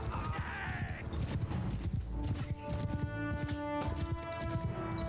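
Horses gallop in the battle game Mount & Blade II: Bannerlord, a fast, dense clip-clop of many hooves drumming continuously with scattered clatter and an occasional neigh.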